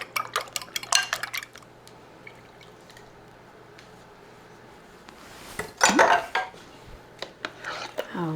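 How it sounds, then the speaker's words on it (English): Macaroni and cheese ingredients are mixed together in a baking dish, with bursts of scraping and clinking from a utensil against the dish and a quiet pause in the middle. The sounds are fairly close and there is no talking. "we're just going to mix all this stuff up together"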